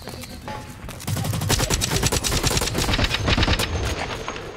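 Rapid automatic gunfire from a weapon in the shooter game Blacklight Retribution rattles in dense, loud bursts, starting after a brief lull and continuing almost nonstop, with no voices over it.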